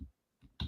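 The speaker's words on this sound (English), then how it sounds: "Let me type it in the chat. I'm always going to be typing in our WebEx." Typing on a computer keyboard while entering a chat message: a few quick, close key clicks after a brief pause, with no voices.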